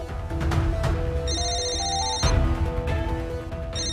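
Telephone ringing unanswered: a loud electronic ringtone plays repeated bright tonal bursts in a steady pattern for several seconds over a dense background of scene noise.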